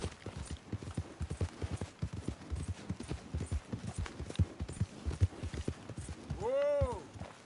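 A horse in Red Dead Redemption 2 clip-clops at a steady walking rhythm, hooves clear and close, and a short tonal call rises near the end.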